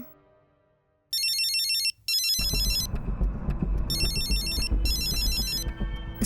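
A phone's electronic ringtone trills in two pairs of repeating bursts, loud and close, first alone and then over a swelling dramatic music bed.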